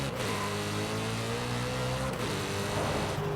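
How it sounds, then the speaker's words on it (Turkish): A 2005 BMW M3 in Forza Horizon 5 revs hard and accelerates, its engine note steadily climbing through the rev range before a brief dip at a gear change, loud and close with no talk. "Şöyle biraz gazlayalım bakalım."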